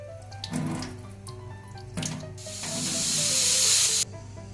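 Tap water runs into a sink while cumin and coriander seeds are washed, splashing in short bursts and then a louder steady hissing stream that stops abruptly.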